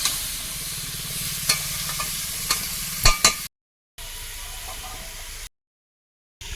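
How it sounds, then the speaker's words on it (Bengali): Raw pumpkin pieces and a whole tomato fry in a pan with steady close sizzling, broken by a few sharp utensil scrapes and clinks, with brief gaps of silence. "কাঁচা কুমড়ো একটা টমেটো গোটা দেবো কুমড়োর সঙ্গে ভাজা হতে থাকবে"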